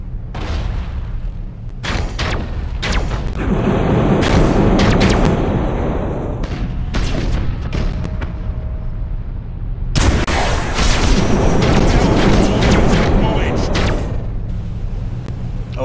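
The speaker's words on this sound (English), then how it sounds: "maintain sustained fire against the Eldar flagship" A warship in the Battlefleet Gothic: Armada space battle game keeps up sustained fire on an Eldar flagship, producing a dense, loud barrage of booming shots and crackling impacts, with a sharp renewed volley midway.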